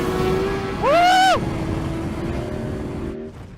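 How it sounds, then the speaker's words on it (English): A motorcycle revs hard at wide open throttle on a race track, a steady engine drone that rises sharply in pitch for a brief loud surge before settling back to a constant roar. "Wide open throttle!"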